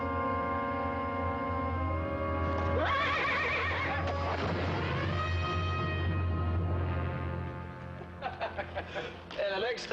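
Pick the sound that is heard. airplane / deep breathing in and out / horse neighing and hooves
horse neighing and hooves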